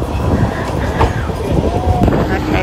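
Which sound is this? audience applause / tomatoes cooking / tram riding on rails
tram riding on rails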